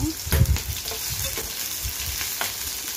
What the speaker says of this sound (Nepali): लाइकमा मैले प्याज हालेको छु, तेल र प्याज